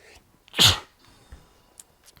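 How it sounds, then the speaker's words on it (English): A single loud, sharp human sneeze, close and clear, bursting out once amid otherwise quiet room sound with a few faint clicks after. "I'm about to sneeze."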